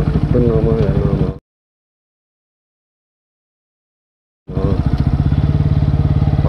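A Bajaj Pulsar NS160 BS6 2020 motorcycle engine runs in steady, close-up pulsing bursts during an off-road test, loud at the start, then cutting to total silence for about three seconds before the engine note returns.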